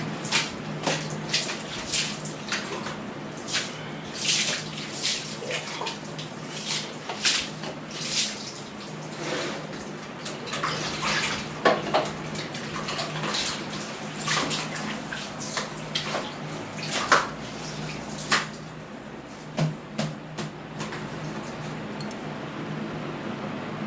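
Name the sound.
washing kitchen chimney filter with foam scrubber and soap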